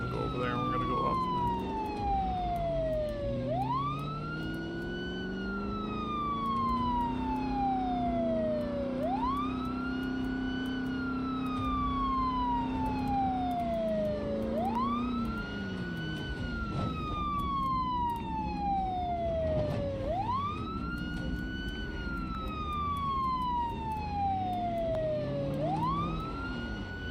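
A wailing emergency siren from the video game Project Zomboid sweeps up and slowly down in repeating cycles every five or six seconds. It runs loud and unbroken over a low rumbling background.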